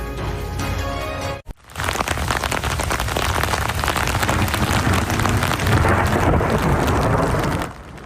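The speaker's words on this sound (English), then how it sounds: "That is the moment lightning struck the top of the Calgary Tower over the weekend, followed by a loud thunderclap." Lightning strikes the Calgary Tower, followed by a sudden loud thunderclap that breaks into a long, dense rumbling crash over heavy rain, staying loud for several seconds before cutting back down to rain.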